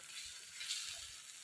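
Spice paste with coriander powder sautéing in a pan for a Bengali fish curry, a soft, steady sizzle with faint crackles, fairly quiet and close.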